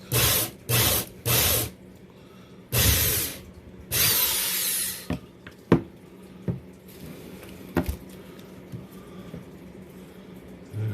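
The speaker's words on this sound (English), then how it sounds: "I'm just going to drill one of them out for the time being" A hand drill whirs in several short bursts, then longer runs, followed by scattered clicks and knocks as the bit works through a wooden Ibanez Gio guitar neck.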